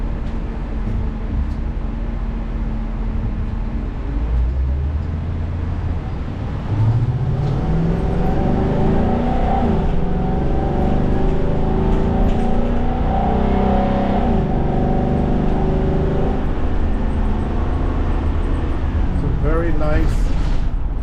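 A 2023 Jayco Alante 29F V8 motorhome engine runs steadily while driving, a continuous loud rumble that swells after a few seconds as the engine works harder, with road noise throughout.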